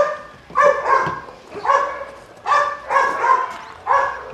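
A Rottweiler barks in about six deep, loud, close bursts spaced roughly half a second to a second apart, with quieter room sound between the barks.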